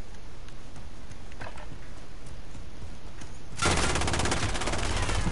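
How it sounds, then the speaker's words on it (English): Sustained automatic gunfire in the Modern Warfare video game, a burst of rapid shots that starts abruptly partway through and rattles on loud and close, following a quieter stretch of distant game noise. "why are you shooting at me?"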